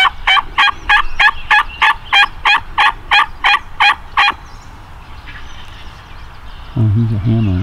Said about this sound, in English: There's a gobble right dead front of us.